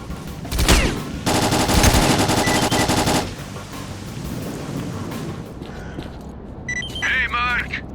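Machine gun fire in S.T.A.L.K.E.R.: Clear Sky: a loud, dense burst of rapid automatic shots lasting about two seconds after a single opening shot, with a low rumbling battle ambience and a faint radio-like chirp near the end.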